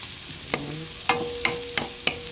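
Pork browning in a pan with chili for Filipino adobong baboy sizzles steadily under five sharp clinks of a utensil stirring against the pan, close and clear with no talking.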